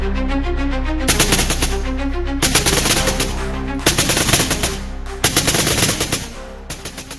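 Gunfire sound effects rattle through a reenacted night raid by Navy SEALs on a house in Abbottabad, Pakistan, as loud bursts of automatic fire broken by short pauses over a constant low rumble.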